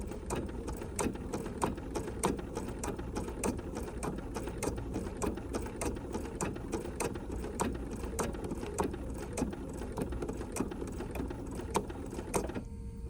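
A sewing machine works a candle wicking stitch, a steady rapid mechanical clatter with regular ticking needle strikes over a constant motor hum, close and uninterrupted, with no talk.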